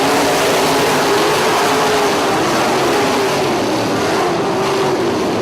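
Steady, loud roar of many non-wing sprint car engines revving at a race start, droning together without a break, a dense mechanical buzz filling the whole stretch.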